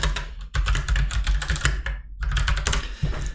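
Rapid typing on a computer keyboard, a dense run of close, crisp key clicks with a brief pause midway, heard alone without speech.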